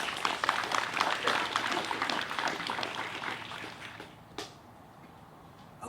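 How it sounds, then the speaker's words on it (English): Applause at an outdoor golf course renovation ribbon cutting follows a speech, a moderate burst of group clapping that fades out toward the end, with a sharp clap or knock near the close. "A round of applause for that."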